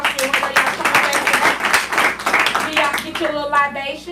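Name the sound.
audience applause at event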